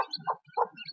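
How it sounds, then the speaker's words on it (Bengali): Newly hatched chicks from a clutch of twelve eggs give a few high, soft peeps, heard in three short clustered bursts at close range with no talking. "এ হচ্ছিল আমাদের মুরগির ছানা।"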